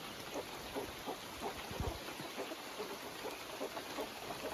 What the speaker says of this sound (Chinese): 这个雨肯定是下1天了。